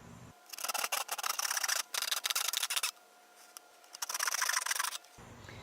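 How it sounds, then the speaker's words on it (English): A handsaw cuts through a plastic bucket wall in quick rasping bursts, several strokes separated by brief pauses, close and fairly loud with no talk over it. "Now we'll use our handsaw to cut out our marking."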